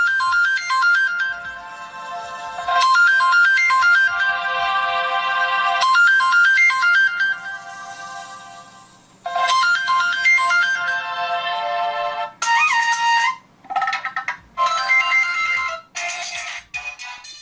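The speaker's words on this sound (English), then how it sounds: "there's a good selection of ringtones on there" A loud, melodic ringtone plays through the loudspeaker of a Ruggex Rhino 5 Lite rugged Android smartphone, repeating its tune in several bursts with brief gaps, then switching to different ringtone patterns.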